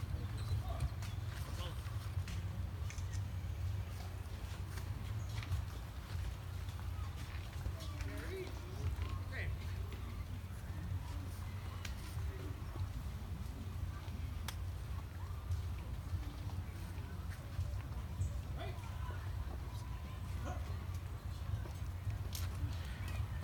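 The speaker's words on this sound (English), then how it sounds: "Escorting the riderless horse this evening is First Sergeant Trevor Harlow of the 945th" Hooves of a riderless horse clip-clop steadily at an opening ceremony, faint against a constant low rumble of the outdoor setting, while an announcer speaks over them.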